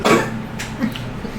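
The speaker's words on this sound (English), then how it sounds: "I've got a cough." One short, sharp cough near the start, close and fairly loud, trailing into a quiet room during a tabletop role-playing session.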